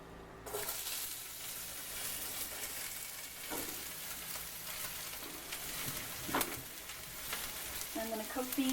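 Vegetables sizzling in a hot pan with oil, a steady, moderately loud crackling fry starting abruptly and continuing throughout, with a few stirring scrapes and a faint voice near the end.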